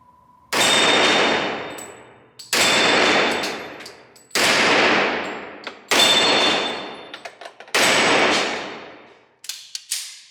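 SVI Infinity 2011 competition pistol fired at targets: five loud, close gunshots spaced about two seconds apart, each with a long ringing decay, followed by a few smaller clanks and a final shorter shot, with no talking.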